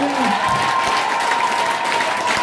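A church congregation claps and cheers during a Christmas Eve worship service, a steady, dense wash of applause filling the room for the full stretch, loud and continuous with a sustained tone ringing underneath.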